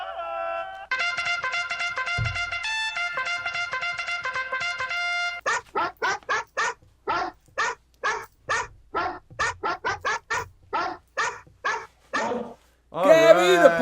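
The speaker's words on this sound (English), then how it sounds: "If you were listening on during the show, during all the time, you heard lots of barking." A pitbull barks in a rapid series of sharp, loud, evenly spaced barks, following a stretch of tonal sound and ending in a higher whining burst.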